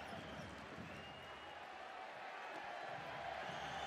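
A home crowd at a FIBA semi-final basketball game between Surne Bilbao Basket and NINERS Chemnitz sends up a distant, steady roar of cheering and murmuring that fills the arena, faint and even in level, with commentary voices mixed in.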